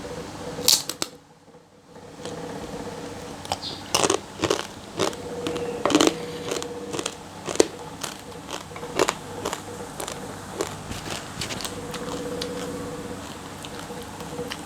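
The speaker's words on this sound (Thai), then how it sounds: "หลอดคอเป็ดทอดกรุบกรอบ" Loud, irregular crunches from chewing crispy fried duck windpipe, close to the microphone, with scattered sharp bites and a brief rustle at the start.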